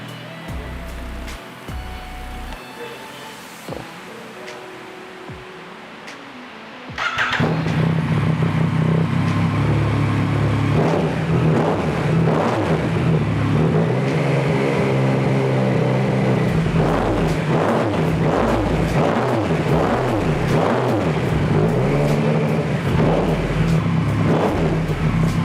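A three-cylinder big bike, such as a Yamaha MT-09, MV Agusta Veloce or Triumph Tiger, idles quietly before firing into loud, repeated throttle blips, each rev rising and falling in a rapid rhythmic series close by.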